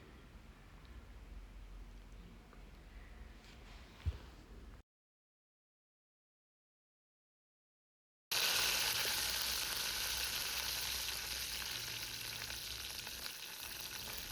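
Mustard seeds and fenugreek spluttering in hot oil, a quiet hiss and crackle that drops out to silence for a few seconds, then returns as a louder, steady sizzle.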